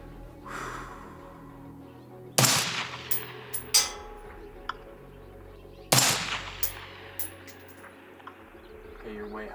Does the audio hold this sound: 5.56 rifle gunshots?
yes